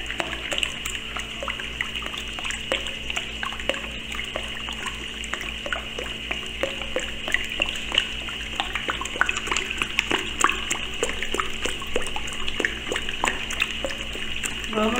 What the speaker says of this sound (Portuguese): Vamos mexendo sem parar.